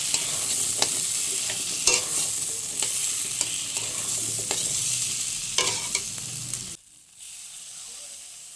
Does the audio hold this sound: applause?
no